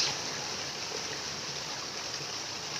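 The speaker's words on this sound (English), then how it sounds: "not only can you hear the water right now" Floodwater rushing through a flooded yard, a close, steady broadband roar without breaks and with no voices over it.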